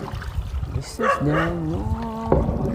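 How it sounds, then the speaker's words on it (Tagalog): A dog yips and whines in short rising cries near a boat on the water, brief and close, over a rumbling background. "Ingay yung aso."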